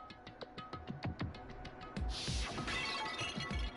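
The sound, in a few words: Monokuma bottle smashed over a head, Danganronpa game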